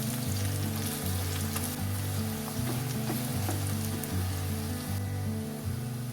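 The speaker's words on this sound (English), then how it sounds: "बिरयानी के लिए कैसे हम अनियंस को तलते हैं वैसे उतना ही तलना है इसे।" Onions fry in a pan, cooked to a golden stage as for biryani, giving a loud, steady, close sizzle with crackling spatter throughout, heard alone without talk.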